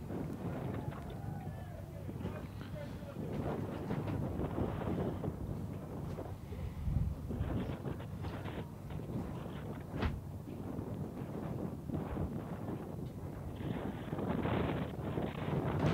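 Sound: gusty wind blowing at an outdoor rugby league ground

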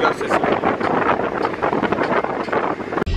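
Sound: wind noise inside the car

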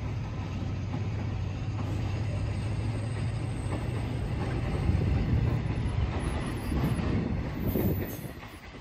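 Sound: train passing on railway

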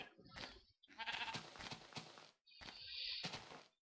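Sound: sheep bleating in Minecraft video game

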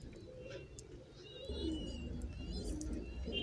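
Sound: pigeons cooing in a loft

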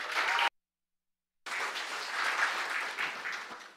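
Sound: audience applause welcoming a speaker

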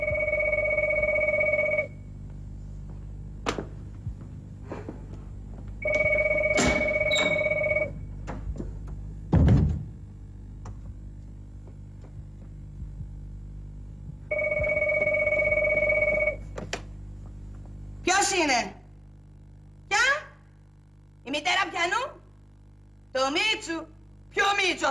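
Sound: telephone ringing

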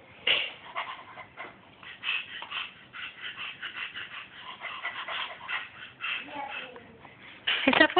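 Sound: child imitating a dog barking

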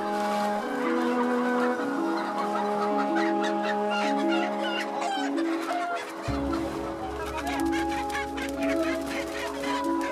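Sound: chickens clucking in a poultry farm

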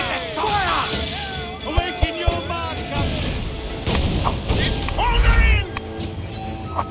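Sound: explosions in video game Assassin's Creed 4 Black Flag

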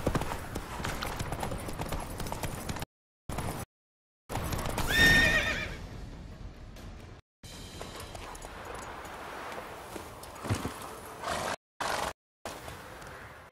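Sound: horse Roach galloping and neighing in video game

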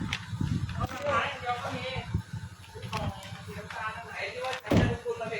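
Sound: Honda CR-V car door being closed

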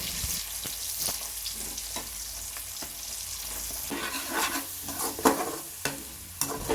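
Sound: sliced onions frying in oil

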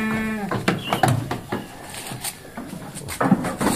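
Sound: PE goat (kambing) bleating

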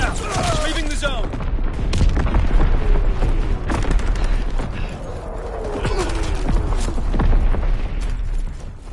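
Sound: mortar shot exploding in a video game

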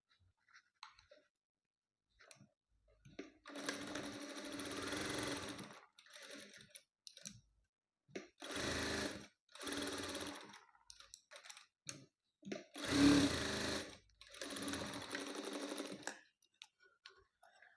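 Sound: sewing machine stitching fabric

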